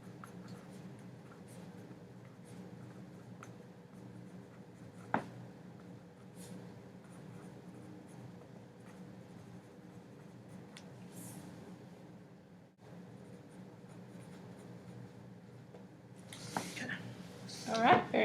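A pencil writing a sentence on paper during a language test, faint soft scratching strokes at close range over a quiet room hum, with a few small taps and some rustling near the end.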